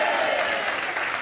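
Studio audience applause on a French television talk show: dense, loud, continuous clapping that fills the whole moment without a break.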